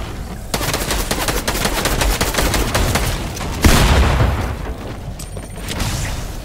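Rapid gunfire from Fortnite Zone Wars, a game of dense repeated shots and bursts that runs almost without a break and rises to a louder blast partway through.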